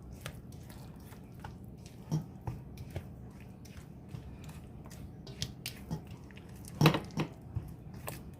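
Cassava cake batter with brown sugar and egg being mixed by hand: soft, wet squelching and scattered clicks of a utensil against a bowl, in an irregular, fairly quiet rhythm up close.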